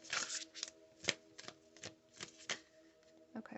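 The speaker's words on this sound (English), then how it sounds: "Okay, goodness, having some issues shuffling." Tarot and oracle cards being shuffled by hand, giving a run of quick papery riffles and slaps in an uneven rhythm, close and fairly quiet, with no talking.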